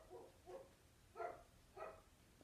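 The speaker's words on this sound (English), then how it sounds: "That is Basil barking outside" A dog barks outdoors, four short muffled barks spaced about half a second apart, faint and distant behind an indoor room with no talking.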